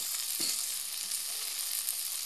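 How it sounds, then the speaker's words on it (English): Grasshoppers (nsenene) being shaken and drying in a pan after the water has cooked off and onions have been added: steady, close hiss and sizzle, with a brief rattle of the insects being tossed early on. "I'm shaking them up a bit to see that the ones at the bottom also get to"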